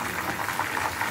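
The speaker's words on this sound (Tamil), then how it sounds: "தண்ணியெல்லாம் சுண்டி நல்லா சலசலப்பெல்லாம் அடங்கட்டும்" Herbal hair oil with hibiscus leaves boiling in a pot, a dense continuous bubbling and sizzling hiss, close and steady throughout.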